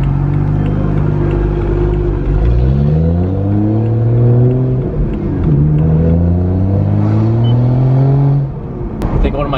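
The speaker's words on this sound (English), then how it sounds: "I just love letting their turbos spool up and just let it do its thing." A car engine revs up repeatedly, pitch climbing through gears with a whirring turbo, loud and close, before easing off at the end.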